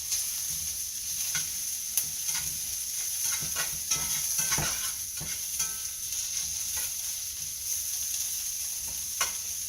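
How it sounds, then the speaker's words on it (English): Onions, sausage and potatoes sizzle steadily in a hot pan for sausage hash, with soft scraping and stirring clicks from a utensil moving the food around, close and fairly quiet. "Onions are starting to brown up really nicely."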